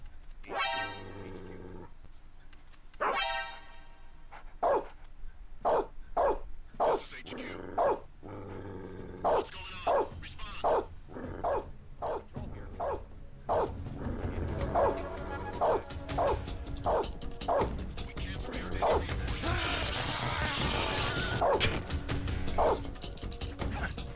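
Dogs in Metal Gear Solid 3: Snake Eater bark in sharp repeated bursts, growling and yipping between them, loud and close with game noise building toward the end.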